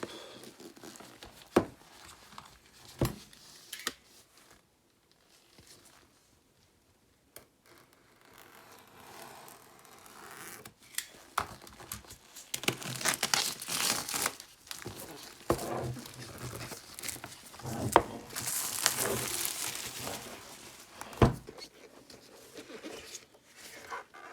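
Intermittent rustling, crinkling and sharp clicks as the box of a Lenovo Chromebook tablet with keyboard is handled and opened, close and moderately loud, with quieter pauses between bursts.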